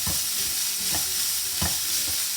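Chopped banana stem (posola) frying in a pan with a constant hiss of sizzling, broken by a few soft scrapes of stirring.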